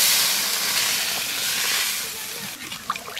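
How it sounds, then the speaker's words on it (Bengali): Sizzling hiss with a steamy roar as water is poured onto potatoes and spices frying in a pan for a home-cooked fish curry; loud and continuous, easing slightly toward the end. "আলু মশলা ভালো করে ভেজে নিয়েছি এবারে জল দিয়ে দেবো"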